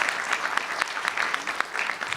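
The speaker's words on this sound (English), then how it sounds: "Give them a round of applause on that." Audience applause at a college MLK convocation, a steady wash of many hands clapping with a few sharper individual claps standing out, moderately close and continuous for a couple of seconds with no talk.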